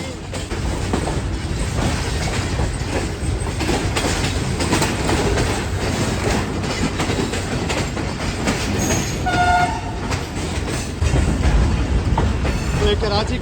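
A night passenger train pulls into platform 2 at Karachi Cantt station, a loud continuous rumble with steady wheel clatter and squeals, a brief horn-like tone near the end, and voices faintly under it.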